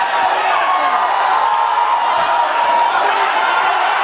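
Arena crowd at an MMA bout roaring and cheering steadily throughout, a dense, loud wash of voices behind a Filipino fighter.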